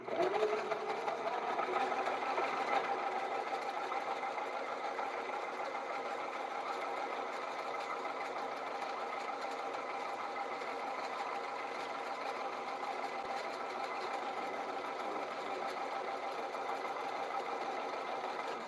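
An old Penn fishing reel spools line with a continuous fast mechanical whirring and rattling buzz, steady and fairly faint throughout, with no talk.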